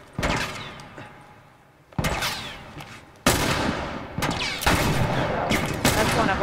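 Gunfire in The Last of Us Part II, several loud sharp shots in separate bursts, closer together and more sustained toward the end, with echoing decays.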